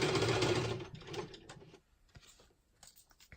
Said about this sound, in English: Okay, so I'm going to sew that on.